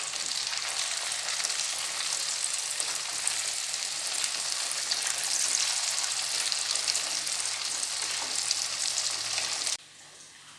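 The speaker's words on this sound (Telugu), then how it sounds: "కొంచెం లేట్ అవుతుంది ఇది ఫ్రై అవ్వడానికి కూడా." Sliced colocasia (chamadumpa) chips frying in hot oil, giving a steady, dense sizzle and crackle that runs for about ten seconds without speech, then cuts off abruptly.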